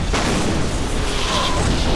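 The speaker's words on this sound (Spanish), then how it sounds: "El juego empieza con una explosión." A loud explosion opens a World War II battle in Call of Duty: World at War, a dense boom rolling into sustained rumbling debris and battlefield noise for a couple of seconds.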